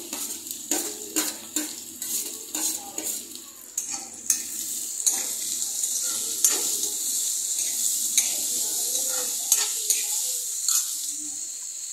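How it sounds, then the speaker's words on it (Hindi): Green chillies and onions fry in hot ghee in a pan, giving a continuous close sizzle. Repeated sharp clinks of a spoon against the pan come often early on and less often later. "यहाँ पे हो चुका है घी गरम और हम इसमें डाल दे रहे हैं ये मिर्ची साथ साथ हम प्याज भी डाल देंगे"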